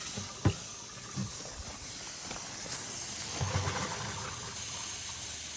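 Compressed air hisses steadily out of the water lines of a Forest River Sunseeker RV during winterizing, a faint, continuous broadband rush with a few soft knocks and a brief voice near the start.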